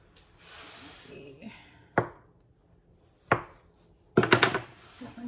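Dough being cut into slices with a knife on a board, three sharp separate chopping thuds spaced a second or more apart and then a quick burst of rapid taps, close and fairly quiet, with some soft rustling between.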